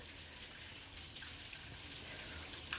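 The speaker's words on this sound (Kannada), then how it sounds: "ಮಳೆ ನೋಡಿ ಸ್ನೇಹಿತರೆ ಎಷ್ಟು ಜೋರು ಬರ್ತಾ ಇದೆ ಕೇಳಿಸ್ತಾ ಇದೆಯಾ ಸೌಂಡು" Heavy rain falls in a steady, dense wash of noise with splashing water, continuous and fairly loud throughout with no talking.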